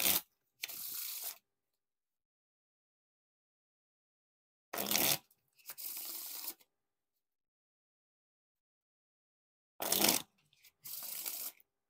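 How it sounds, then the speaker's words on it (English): Bicycle Majestic playing cards riffle or bridge shuffled three times in a quiet room, each a short burst of split-and-riffle followed by a crisp rapid fluttering cascade, evenly spaced with silence between. "Now time for the Riffle Shuffle or Bridge Shuffle."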